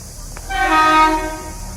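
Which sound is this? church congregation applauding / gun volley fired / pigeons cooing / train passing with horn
train passing with horn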